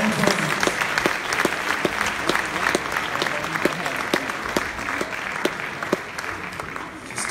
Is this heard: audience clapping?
yes